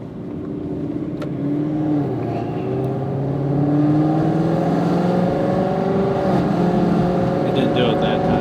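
Car running on E85 fuel driving steadily, its engine droning and rising through gear shifts with a slight stutter between gears, loud and continuous under talk.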